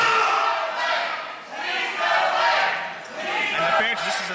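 A wrestling crowd in an arena cheers and shouts in rolling waves, swelling and dipping several times, loud and close with no single voice standing out.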